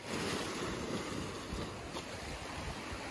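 Rough ocean waves off the Cebu coast crash and churn steadily, with a broad roar and gusting wind noise buffeting the microphone throughout.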